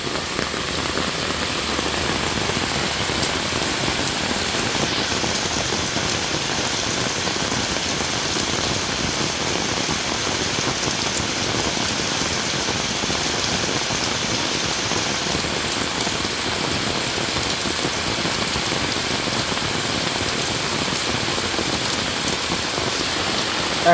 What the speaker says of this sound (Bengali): বেদম বৃষ্টি আছে বন্ধুরা।